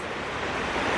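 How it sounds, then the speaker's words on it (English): Waves wash against the shore in a steady, broad rush with wind noise, heard up close and fairly loud with no voices. "I know the water is probably a bit loud"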